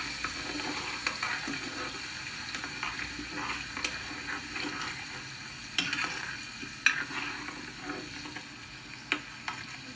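A mango pickle spice paste fries and gets stirred in a pan, a steady sizzle broken by scraping strokes and sharper clinks of the spoon, with no voices.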